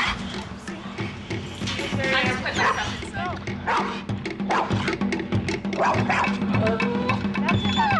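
Several dogs bark and yip repeatedly at close range, overlapping each other in excited bursts, with people talking underneath.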